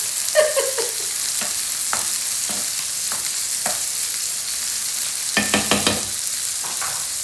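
French fries frying in hot oil for steak frites, a constant bright hiss of sizzling with occasional clinks and stirring knocks scattered throughout, close and steady.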